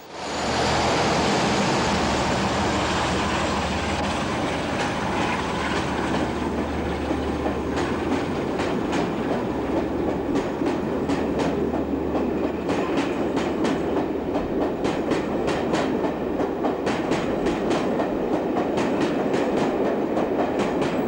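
British Rail locomotive 45107 departing Teignmouth on the seafront with a Nottingham to Penzance passenger train, a loud diesel engine throb giving way to rolling carriages and rhythmic clickety-clack of wheels over rail joints.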